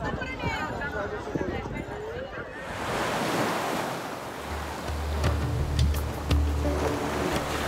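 Sea waves wash onto the beach at Puri at dawn, a broad, steady surf roar with wind buffeting the microphone, a person talking over it and a low engine hum joining later.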